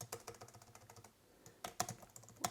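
Typing on a Logitech MX Keys for Mac keyboard: quiet, close, rapid key clicks in an irregular rhythm with a few louder taps near the end.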